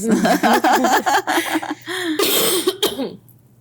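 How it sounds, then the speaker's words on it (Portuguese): Someone talks briefly, then lets out a couple of harsh, close, barking coughs before falling quiet. "Tô com tosse de cachorro."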